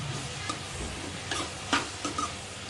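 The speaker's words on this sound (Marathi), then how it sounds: "सिमला मिरची थोडीशी फ्राय करून घ्यायची तेलामध्ये" Chopped capsicum fries in hot oil in a kadai over a high flame, making a soft sizzle with light ticks and scrapes of stirring at irregular intervals.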